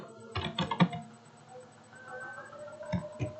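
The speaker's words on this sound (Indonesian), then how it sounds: "Kita harus ngetik hati-hati ya." Typing on a computer keyboard: quick clusters of keystrokes in two short bursts with a quieter pause between, close and clear, no talking.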